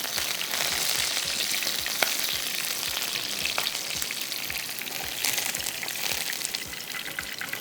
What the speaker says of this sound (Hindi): तो अब ये थोड़ा सा तड़का ऊपर से देते हैं जो हमने खिचड़ी के ऊपर देना है